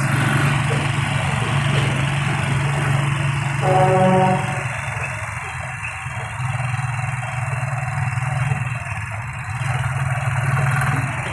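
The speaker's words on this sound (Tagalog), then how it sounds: "medyo malakas po yung arangkada ng ating motor dahil nakapalit lang po natin ng regulator" A motorcycle engine with a replaced regulator runs steadily up close, its pitch rising briefly as it revs before settling back to a loud idle drone.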